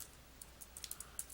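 Quiet keystrokes on a computer keyboard tap out a web address in a browser bar, a quick irregular run of soft clicks picking up pace toward the end.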